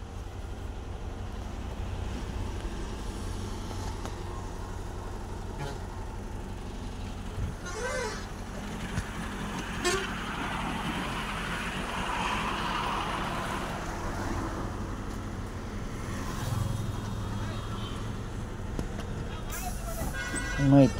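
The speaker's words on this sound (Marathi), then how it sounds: "वाहनांचा आवाज पण आला पाहिजे थोडाफार, तुम्हाला पण कळलं पाहिजे वाहनं येते पाठीमागून रस्त्यावरती" Vehicles passing along a ghat road, a steady broadband traffic rumble with a few louder passes swelling and fading, heard under ongoing talk from a man nearby.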